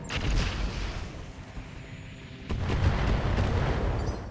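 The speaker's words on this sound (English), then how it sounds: "we'll fire that MML." An MML missile launcher firing in RogueTech, a BattleTech game, gives a loud booming barrage of launches and impacts that dips briefly and then swells again into a dense rumbling salvo.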